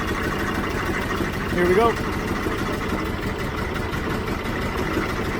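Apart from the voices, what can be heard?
1967 VW Type 3 engine idling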